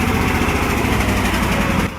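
An Iveco 6x6 logging truck engine working through ruts in muddy clay, its steady, loud mechanical drone running continuously before dropping off abruptly near the end.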